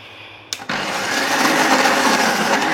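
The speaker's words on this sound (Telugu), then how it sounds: "ఇప్పుడు దాన్ని మిక్సీ పెడదాం" A mixer grinder blending cream starts with a brief click and then runs steadily as a loud, high-pitched whirring motor without pause.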